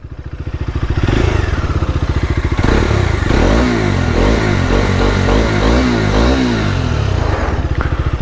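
A Bajaj Dominar 250 motorcycle engine idles in neutral, then revs up in several rising and falling bursts, loud and close with a throbby exhaust note.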